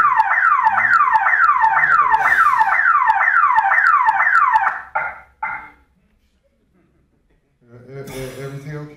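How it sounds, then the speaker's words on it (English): A rapid electronic alarm set off when someone peeked through a curtain gives repeated falling chirps for about five seconds, then cuts out. A voice follows after a pause. "my alarm went off because you peeked in the curtain"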